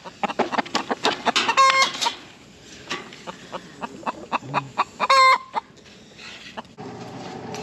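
Hens on a farm cluck in short, irregular bursts close by, with a few louder squawks standing out over a quiet background.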